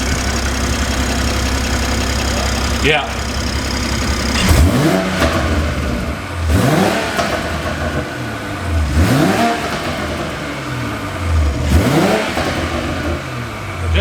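A 2020 Toyota Supra fitted with an AFE intake idles and then revs repeatedly, giving four or five rising and falling engine sweeps heard from near the front of the car, with one brief word spoken early on.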